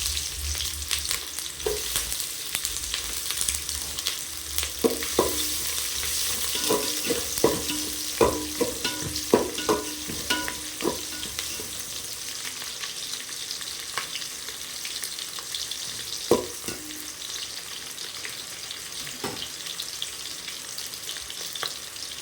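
Mustard seeds crackle and splutter in hot oil for a chicken curry, with a dense, loud frying hiss punctuated by irregular pops and a few stirring scrapes, no voices.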